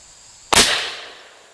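A single loud, sharp crack from an Umarex Hammer air rifle going off, followed by a quickly fading tail with no talking.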